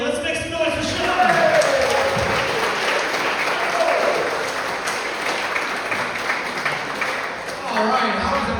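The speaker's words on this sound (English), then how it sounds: "Round of applause for my new friend, Sean Steele." Applause from a comedy show audience runs throughout, a thick continuous roar of clapping with crowd noise swelling at the start and holding steady to the end.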